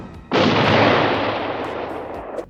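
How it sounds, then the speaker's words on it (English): Gunfire in the animated Disney film The Fox and the Hound: one loud, abrupt blast that rolls on into a long, roaring, slowly fading echo, nearby and alone. "and then we hear gunshots."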